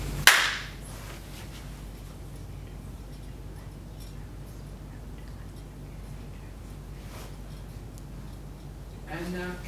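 A single sharp hand clap at the start during a Theatre of the Oppressed exercise, followed by a quiet room with faint background murmur and a soft sound near the end.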